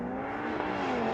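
A Mercedes-AMG A45 S accelerates hard off the line in a drag race against a BMW M2 CS and an Audi RS3. A steady engine drone with a rising tonal whine runs briefly and fairly faintly, with no talking.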